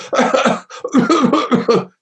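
A voice imitates an irritated, histamine-type throat cough: two bursts of rapid, harsh hacking coughs close to the mic, separated by a short pause.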